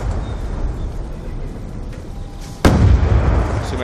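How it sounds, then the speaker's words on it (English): Hellstorm missile strike explosions hit a multiplayer match in Call of Duty: Black Ops 2. Heavy rumbling and debris come first, then one sharp, loud blast near the end that keeps roaring afterward. "Friendly Hellstorm missile inbound."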